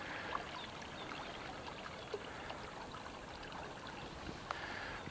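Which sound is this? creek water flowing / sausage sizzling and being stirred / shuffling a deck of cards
creek water flowing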